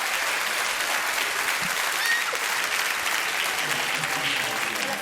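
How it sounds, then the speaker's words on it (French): A French radio-studio audience at the Maison de la Radio gives dense, sustained applause for Pierre Bellemare, a loud wash of many hands clapping with no break throughout. "merci Pierre Bellemare, applaudissements pour lui"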